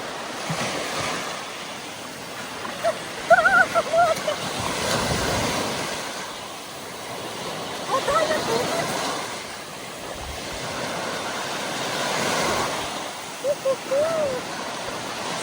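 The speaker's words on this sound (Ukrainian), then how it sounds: "А зараз вам краси нашого Чорного моря." Black Sea surf rolls onto the shore near Kurortne in Odesa region, slow swelling washes rising and falling every few seconds under steady wind noise on the microphone.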